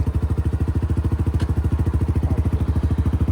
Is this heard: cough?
no